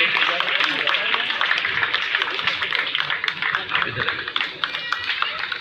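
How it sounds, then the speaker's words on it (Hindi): An audience at an outdoor inauguration ceremony for a village market claps continuously: a dense, steady patter of many hands, fairly close, with voices faintly mixed in. "हम लोग लगातार ताली बजाते रहेंगे।"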